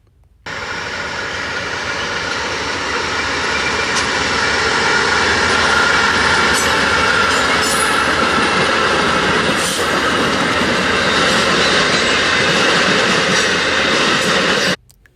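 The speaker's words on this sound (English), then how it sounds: "Three pre-42 DC locomotives on this train" A train hauled by three DC locomotives passes close by in one steady, loud roar of rumbling wheels and rail noise with faint squeals, lasting throughout before cutting off.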